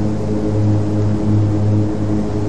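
Twin propeller engines of a Cessna 310 in a flight simulator drone steadily with a loud, even, buzzing hum and a slow beating pulse, continuous and close with no speech.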